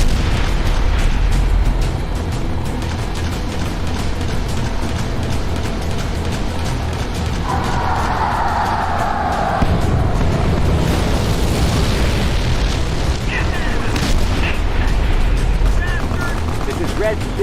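Artillery booms and heavy gunfire roar continuously in a Fallout: Frontier battle, a dense, loud wall of blasts and shots under shouted voices.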